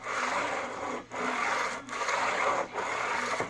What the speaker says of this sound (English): Got my paper glued to the block. This is the 100 grit, so this is real rough.